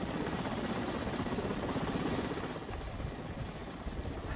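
Helicopter flying in poor weather, delivering an expedition to the upper Bikin River: a steady, loud, continuous rotor thrum with a dense low-frequency beat and a constant high whine, with no talk.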